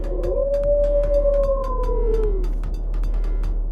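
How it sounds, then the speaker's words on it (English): A wolf howl sound effect from a tabletop role-playing session: one long, loud, wavering howl rises, holds, then slides down and fades over about two and a half seconds, alone without talk. "a strange wolf materializes next to him, gives out a blood-curdling howl as it prepares itself."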